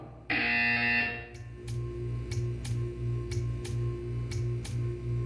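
A buzzer in the video game Portal 2: a loud electronic buzz opens, then steady low droning tones continue beneath a series of short, evenly spaced high ticking pulses.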